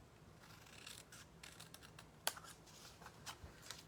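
Small scissors snipping a shallow slit into cardstock, a few faint close cuts with one sharper snip, quiet and without talk.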